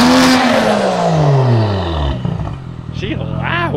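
A 26-year-old JDM import car engine revs hard and loud up close, its roar sweeping down in pitch as the throttle drops, followed by excited voices and whoops.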